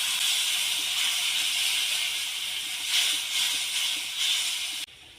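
Ginger paste and ground cumin fry with a splash of water in a pan while chilli cauliflower is cooked at home, giving a steady close hiss that continues unbroken before cutting off abruptly near the end.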